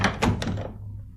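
A locked door is tried and thumped, giving a few dull, heavy knocks in quick succession that die away into quiet, close and fairly loud.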